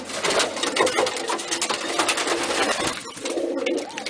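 Pet pigeon or dove pecking and cooing close up, soft repeated coos mixed with dense pecking and rustling taps throughout.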